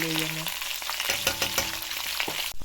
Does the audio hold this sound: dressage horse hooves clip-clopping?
no